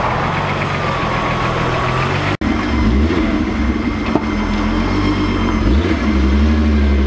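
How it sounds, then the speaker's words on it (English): A Volkswagen Bora Variant with a turbocharged VR6 engine runs steadily with a loud, even idle and a couple of sharp clicks, no talking over it. "Our favorite VR6 turbo variant."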